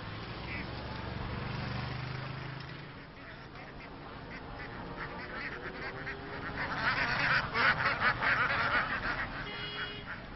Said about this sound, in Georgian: გზაზე ერთდროულად 5000-მდე იხვი გამოჩნდა